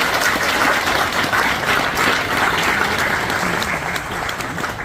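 Audience clapping warmly at a groundbreaking ceremony for a county crematorium, a dense sustained round of applause that holds steady for several seconds.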